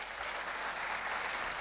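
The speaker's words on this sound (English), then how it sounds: "So have a great round of applause again." Steady round of applause from an audience in a university auditorium, a dense even wash of many clapping hands at moderate distance, sustained without pause and with no talk over it.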